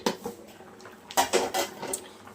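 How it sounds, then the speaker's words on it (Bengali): A metal lid is lifted off a cooking pot where water is coming to a boil for a pangas fish curry, giving a few sharp clanks and scrapes of metal on metal, close and clear. "এবার ঢাকনাটা আমি খুলবো"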